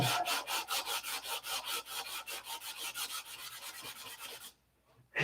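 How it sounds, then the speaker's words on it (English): Hand sanding of fillets produces a fast, steady run of rhythmic rasping back-and-forth strokes, close and even, before stopping briefly near the end and then resuming. "I was sanding up here"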